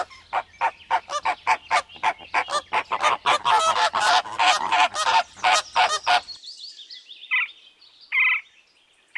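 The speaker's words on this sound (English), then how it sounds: "Flamingo." Flamingo calls heard as a loud, rapid series of harsh, goose-like honks, about two dozen in quick rhythm, followed by a few scattered calls after a brief pause.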